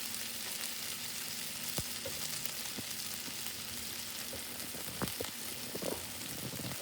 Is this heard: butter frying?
yes